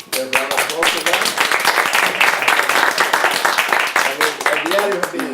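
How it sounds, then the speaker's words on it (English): A crowd at an awards event honoring media trailblazers breaks into sustained, crisp applause, many hands clapping close by, with scattered voices heard at the start and end. "And round of applause for them."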